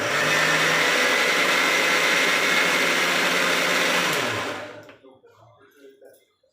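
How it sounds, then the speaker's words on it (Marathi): A kitchen mixer grinder whirs steadily as it grinds cauliflower stems with a little water into a fine paste. The motor runs loud and continuous, then winds down and stops near the end, leaving quiet. "तर आता आपण ह्याला फिरवून घेऊया बारीक पेस्ट"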